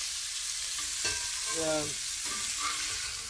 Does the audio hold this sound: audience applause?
no